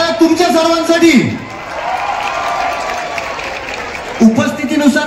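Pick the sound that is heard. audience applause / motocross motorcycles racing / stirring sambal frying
audience applause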